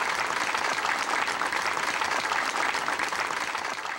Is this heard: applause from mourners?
yes